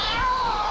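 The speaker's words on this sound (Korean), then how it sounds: "이게 지금 요 나무 위에 어치가 울고 있는 거야." A Eurasian jay perched in a tree gives a short, cat-like mewing call, a single drawn-out note heard clearly against faint background noise.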